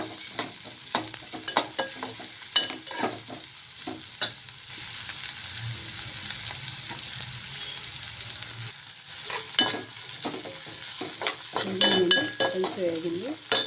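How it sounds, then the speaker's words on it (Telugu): Onion pieces frying in hot oil in a pan for puffed rice chitranna, a steady close sizzle with repeated scraping stirs of a spatula throughout, growing busier toward the end. "అలానే ఉల్లిపాయ ముక్కలు వేసుకుంటున్నాను."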